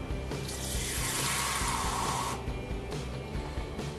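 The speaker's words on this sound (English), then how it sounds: "I'm going to add a couple drops of dishwashing detergent and mix it with some water" Tap water runs and splashes into a container while a few drops of dishwashing detergent are mixed in, a close, steady stream that briefly fills and then quiets with swirling.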